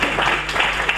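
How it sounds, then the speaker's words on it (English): Audience applause at a security conference talk, dense steady clapping from a crowd welcoming a speaker to the stage, filling the whole moment without a pause. "you might want to clap and give him a warm welcome"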